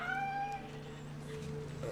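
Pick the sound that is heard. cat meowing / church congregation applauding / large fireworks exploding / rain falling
cat meowing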